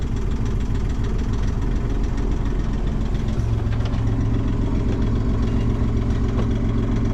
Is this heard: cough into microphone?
no